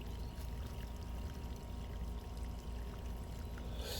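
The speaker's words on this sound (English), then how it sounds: "I just let the hose go and we'll see what happens" A garden hose runs freely onto a patio at a channel drain, giving a steady, continuous splash and pour of water that stays even and fairly close throughout, with no voices over it.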